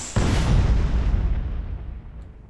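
A rocket detonation in the video game Space Engineers booms suddenly, one heavy blast followed by a long rumbling decay that fades over a couple of seconds, with no voices.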